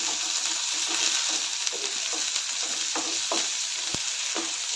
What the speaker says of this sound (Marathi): सर्व व्यवस्थित मिक्स करून चांगलं भाजून घ्यायचं आहे ट्रान्सपरंट होईपर्यंत भाजून घ्यायचं आहे